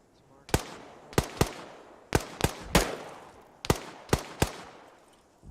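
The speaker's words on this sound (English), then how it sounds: "I hear more mortars launching" Mortar launches in ArmA 3 infantry combat: about seven sharp, booming thumps in irregular clusters, some close together, each with a short decaying tail over a quiet rumbling background.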